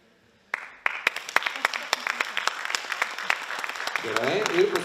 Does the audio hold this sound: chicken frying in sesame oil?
no